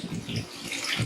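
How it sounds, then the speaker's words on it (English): Water pours steadily from a stone monument fountain near a spring at a historic prison site, a continuous splashing rush heard close up with no talking. "There's, as you can see, more water coming out."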